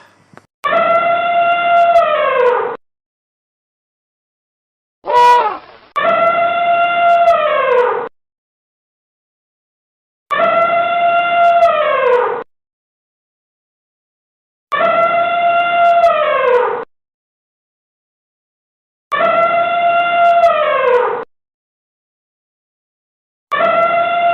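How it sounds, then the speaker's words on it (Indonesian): An elephant's call repeated about six times at steady intervals, each a loud, sustained harmonic blast of roughly two seconds separated by silence. "Berikut ini adalah binatang herbivora gajah."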